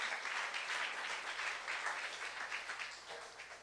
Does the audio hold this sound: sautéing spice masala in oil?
no